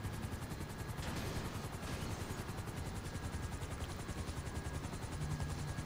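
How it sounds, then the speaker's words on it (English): A helicopter in GTA 5 Online makes a steady, loud rotor chop that fills the whole stretch, pulsing evenly and close by, with no voices over it. "This helicopter's still perfectly good."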